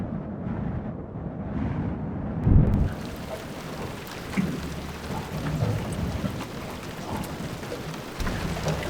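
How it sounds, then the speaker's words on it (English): Rain falls steadily during a stormy morning at a fishing competition at D'Urville, with a heavy rumble of thunder early on and a constant patter throughout. "we've woken up to rain and stormy, horrible weather once again"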